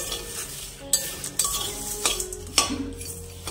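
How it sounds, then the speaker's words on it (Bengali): Whole spices including black cardamom and mace fry slowly over low heat in a pan, a soft crackling sizzle broken by several sharp clinks and scrapes of a spoon stirring against the metal. "একদম লোতে দিয়েছি গ্যাস, আস্তে আস্তে করে ভেজে নিচ্ছি।"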